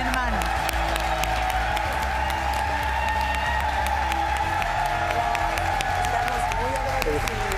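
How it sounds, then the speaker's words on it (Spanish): Applause and cheering from a studio audience on the set of a Chilean reality show's eviction broadcast, steady and dense throughout, with sharp claps, whoops and crowd noise under a constant low hum. "me voy a permitir la última licencia para entregarle un aplauso grande a ustedes dos"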